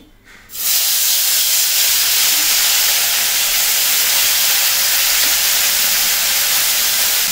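Small mourala fish slide into hot oil, setting off a sudden loud, dense hiss that starts after a brief quiet moment and then roars on steadily.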